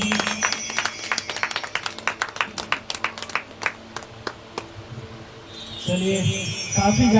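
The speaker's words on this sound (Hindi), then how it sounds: "ताली बजाएं।" A congregation claps hands together at a Mother's Day gathering, a loose flurry of sharp claps running for about five seconds and then fading as voices and a warm murmur rise toward the end.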